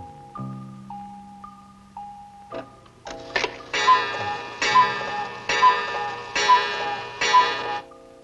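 An old-time alarm clock ticks in a steady, even rhythm at close range, with loud clear ticks coming roughly once a second after a quieter start.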